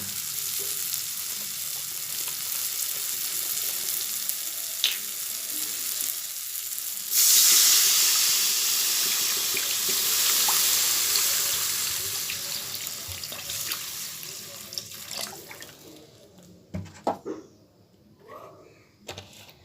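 Water poured into a hot pan for a jackfruit seed dal hits with a sudden loud hiss and sizzle that slowly fades, followed by scattered clinks and stirring sounds.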